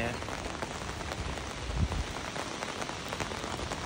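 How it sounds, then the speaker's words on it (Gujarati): Steady rain falls outdoors on a summer day in Germany, an even, close patter of drops across the whole stretch with one brief low thump near the middle. "જો ભાઈ વરસાદ આવે છે"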